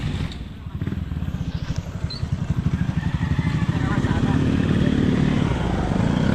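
A motorcycle engine idles with a fast, pulsing putter that swells louder and steadier as it revs, close by at a fiesta in San Juan, Ternate.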